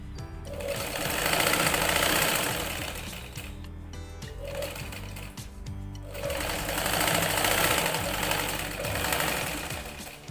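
A sewing machine stitching a fall onto a saree, running in two long bursts of rapid rhythmic stitching separated by a brief pause, close and steady.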